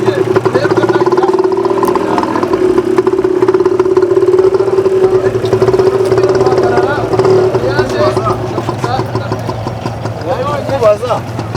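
Motorcycle engine idling steadily before the rider eases out the clutch to pull off, a continuous mid-pitched hum close by for most of the stretch, with voices talking over the engine near the end.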